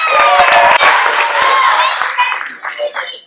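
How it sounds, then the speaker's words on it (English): Crowd of families at a scout pack meeting cheering and clapping for the boys, a loud burst of mixed whoops and applause that fades over a few seconds. "And let's get a cheer for the boys too."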